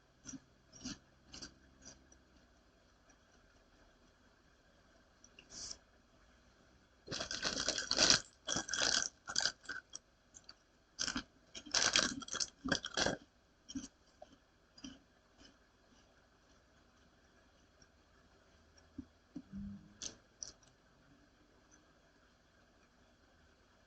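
Close crunching and chewing on bite-sized German onion ring snacks, two dense bursts of crisp bites separated by quieter gaps, with sparse clicks and a few softer chews later.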